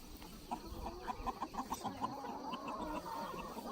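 Chickens in a movable pasture pen cluck softly in quick, irregular bursts, close but faint, over a low outdoor background.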